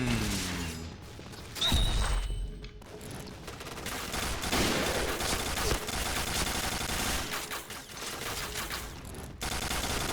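Rapid gunfire from a Famas G2 rifle in the shooter game Point Blank, a dense continuous stream of shots with brief gaps and a loud burst near the start, carrying on for the whole stretch.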